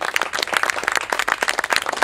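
Loud, dense applause from a theatre audience at a cabaret festival, a steady wash of many hands clapping with no voices over it.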